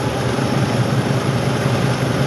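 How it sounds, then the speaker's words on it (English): A 2004 Ram with the 5.7L engine runs steadily and loudly close by, a dense continuous drone with a low rumble and no talking over it. "You can hear the engine change."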